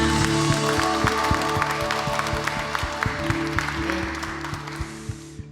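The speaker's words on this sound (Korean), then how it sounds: "우리 예배의 주인이신 우리 예배의 대상이신 주님 앞에 영광의 박수를 올려드리실까요?" A church congregation claps during a Thursday praise worship gathering, sharp rhythmic claps over a sustained organ-like musical tone, fairly close and steady before thinning toward the end.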